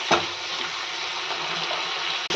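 Ridge gourd frying in oil on a stove as the water cooks off, a steady close sizzle with no break, and no talk.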